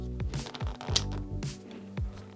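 Clicks of the ribs of an Ambitful PS30SE compact softbox locking into place, a handful of sharp, close snaps in an uneven rhythm with small rattles between them.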